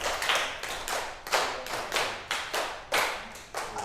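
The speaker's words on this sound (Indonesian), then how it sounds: "Coba tepuk 1, tepuk 3, tepuk 5 2 kali" A classroom of students claps a counted pattern in unison, with loud, crisp bursts of hand claps grouped rhythmically and short gaps between groups.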